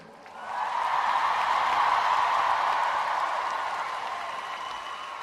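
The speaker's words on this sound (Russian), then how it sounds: "Спасибо вам большое за ваши невероятные аплодисменты." Concert audience at a show in Turkmenistan applauding after the songs, a steady, fairly distant wash of clapping that swells within the first second and holds evenly before easing slightly.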